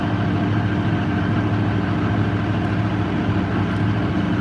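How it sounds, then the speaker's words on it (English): A John Deere 8850 tractor with a V8 engine chugging across a field in South Carolina: steady, deep low engine drone, continuous and close, with no voices over it. "So we got that big John Deere V8 engine just chugging along here across the field."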